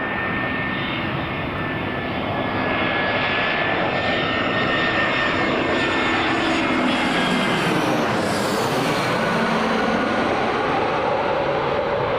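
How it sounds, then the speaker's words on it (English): An EasyJet Airbus A320 lands at Newcastle International Airport, its jet engines roaring loud and close with a whining tone that shifts as the aircraft passes, filling the whole stretch without talk. "Here's EasyJet just landing now. Airbus A320."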